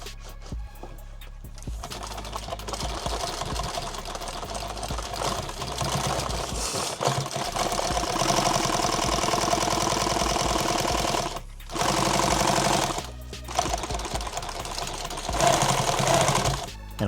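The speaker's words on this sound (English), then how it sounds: "I'm going to sew here and let it fall where it falls." A sewing machine stitches through nylon webbing for a modular load-bearing vest, running in long continuous bursts with brief pauses, close and loud with no talk.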